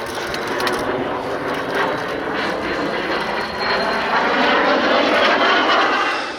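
A de Havilland Vampire jet, a wood-and-metal airframe, roars past at the Duxford Battle of Britain air show, a loud, steady broadband jet rush that holds throughout and swells slightly toward the end.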